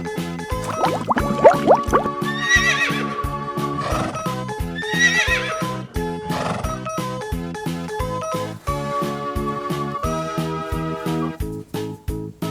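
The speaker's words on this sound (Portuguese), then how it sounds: "Cavalo," A horse neighs in a children's animal-sounds presentation, with several shrill whinnies and snorts over cheerful music with a steady beat and clip-clop hooves.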